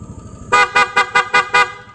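A loud PIAA dual-tone horn on a Yamaha NMAX scooter sounds in a quick series of five short, evenly spaced toots, close and bright against a quiet background.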